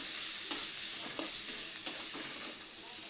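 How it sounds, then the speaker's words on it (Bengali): Tomatoes with turmeric and salt sizzle steadily in a hot pan for a pangas fish curry, with a few soft stirring scrapes over the continuous frying hiss. "এবার টমেটোরও ভালোভাবে কষিয়ে নিতে হবে, যাতে টমেটোটা গলে যায় সুন্দরভাবে।"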